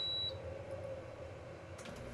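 A short, high electronic beep from an answering machine in the horror video game Amnesia sounds at the start, followed by a low steady hum and faint room noise.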